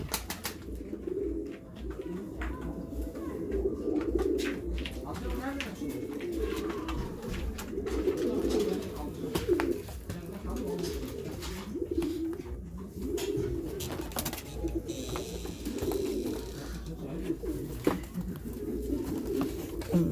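Several pigeons coo in low, rounded, repeated phrases that overlap almost continuously, close by and moderately loud, with an occasional soft wing flutter and no talking.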